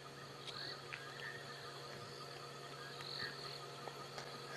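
Frogs and a fiery-necked nightjar calling at night on a safari drive, a steady chorus of croaks and high trilling insect-like calls, faint and distant, with no voices.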